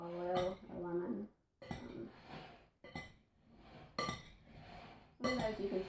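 A utensil stirs and tosses cabbage salad in a dish, producing intermittent clinks and scraping bursts separated by short silences, close and moderately quiet.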